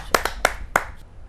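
A handful of sharp, separate claps for a poet at a televised Hindi kavi sammelan, close and crisp, four or five quick strikes that trail off into quiet.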